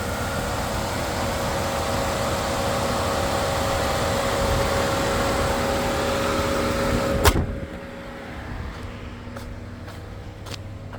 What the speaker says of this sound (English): I don't hear anything other than the motor running, which seems all right to me